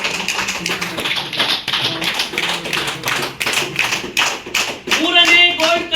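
Audience at a lucky draw clapping for the third gold coin winner, a patter of fairly quick, close claps mixed with an announcer's voice, a brief musical chime near the end.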